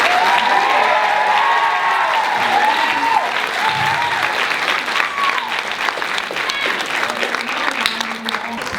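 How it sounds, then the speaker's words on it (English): Loud, sustained applause from a large crowd at a comic convention panel, with voices and a few cheers mixed in, continuing steadily throughout. "Big round of applause for our Adventure Time panelists."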